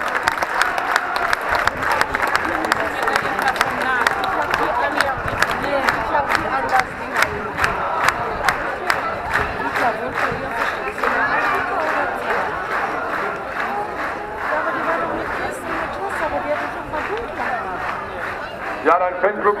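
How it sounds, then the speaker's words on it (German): Fan club crowd at a marksmen's festival king's coronation in Wadersloh cheering, shouting and applauding steadily, a dense roar of voices with rapid claps throughout, loud and sustained. "dein Fanclub jubelt schon"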